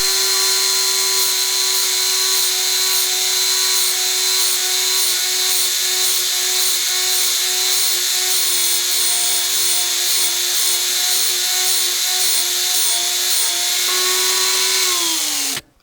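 A steady high-pitched whine of a Dremel tool grinding a steel woodturning chisel with a chainsaw sharpening stone, continuous and loud, cutting off abruptly at the end.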